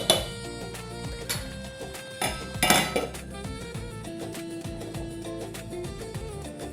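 A metal lid is set onto a pot of sweet pongal, giving a cluster of sharp clinks and clatter midway through, with quieter kitchen clanks before and after and no talking.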